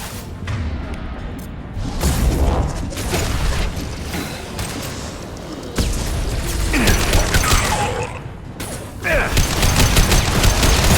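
Weapon fire in a Mass Effect 2 battle, rapid bursts of shots and mechanical clatter coming in loud waves and brief pauses, fairly close, with no talking.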